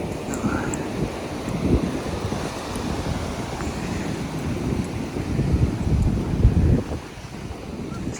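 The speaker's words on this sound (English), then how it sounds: "comes a big wave! Massive wave!" Waves break and wash onto the seashore in a loud, windy rush, the surf swelling to a heavy crash near the end while wind buffets the microphone.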